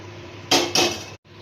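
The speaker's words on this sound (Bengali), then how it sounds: "পেঁয়াজটা কষানো হয়ে গেছে, ডালটা ঢেলে দিয়ে দেব। একটু জলও দিয়ে দেব।" Masoor dal lentils and water tipped into a pan of sautéed onion: two short bursts of pouring and hissing, close and fairly loud, over a steady low kitchen hum, ending in a brief cut to silence.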